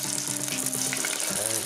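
Chicken pieces fry in hot oil with a dense, close crackling sizzle, while a faint tonal voice or hum sits underneath for the brief moment.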